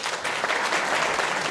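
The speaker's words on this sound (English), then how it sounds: "let's give Dr. Harrison a round of applause" Audience applauding for a college president at the close of a talk program, a short burst of dense, even clapping at steady volume.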